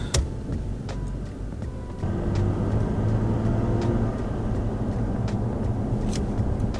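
A third-generation Toyota Tacoma pickup rolls along on a test drive after a vibration fix, its cabin engine and road rumble stepping up louder partway through and holding a steady drone, with faint ticks scattered above.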